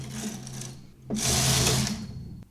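A knitting machine carriage is pushed across the needle bed to knit a tuck-stitch row, giving a loud, close mechanical whir and rattle for about a second after a quieter hum and clicks.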